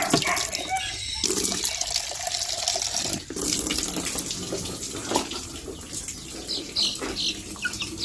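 Water splashing and trickling as it is poured out for backyard chickens, a continuous wet rushing with brief bird wing flaps and faint background activity.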